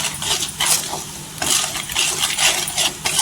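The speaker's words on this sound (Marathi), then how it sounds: "आता हे कोरडे मसाले आहे ते तेलावर आहे ना परतून घ्यायचे" A spoon works dry turmeric, coriander powder and salt in hot oil in a pan for a spicy potato curry, giving repeated metallic scrapes and clinks close up at a busy, uneven rhythm.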